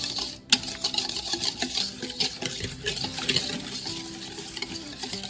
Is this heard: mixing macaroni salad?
yes